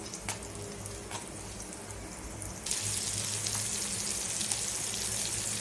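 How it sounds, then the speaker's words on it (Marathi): Marinated prawns going one by one into hot oil in a pan, a few sharp taps followed by a sudden broad, steady hiss of frying that carries on loudly. "आता एक एक कोलंबी मी त्यात टाकून घेते."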